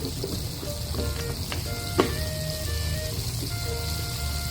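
Pork pieces frying in hot oil in a pan, with a steady, even sizzle and occasional small pops and crackles running throughout.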